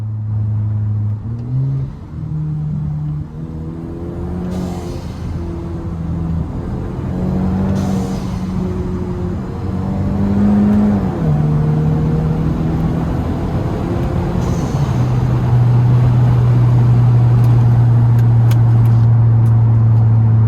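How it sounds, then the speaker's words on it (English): A car engine revs up hard as the driver drops a gear, climbing through rising pitches before settling into a loud sustained drone, close and alone without talk. "I'ma drop a gear again, listen."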